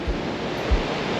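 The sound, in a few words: creek water flowing under a small bridge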